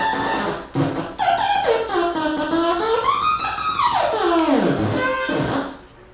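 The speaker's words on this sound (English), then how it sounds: "That's a synthesizer called the light theremin." A light theremin, a synthesizer reacting to light or shadow, makes a squealing electronic tone that sweeps and warbles up and down in pitch, with quick chirps and a long swooping glide, alone and fairly loud.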